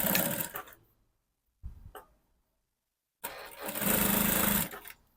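A sewing machine stitching a lace dress runs in three bursts: a short run, a brief second one, then a longer steady run near the end, close and clear with silent pauses between and no talking.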